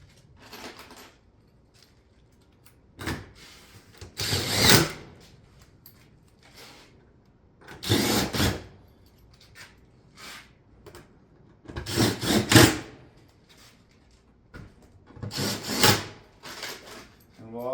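Several separate bursts of rasping, scraping work on a stone-coated steel shake roof panel as it is fastened through its front nose, each lasting about a second, with quieter handling between them.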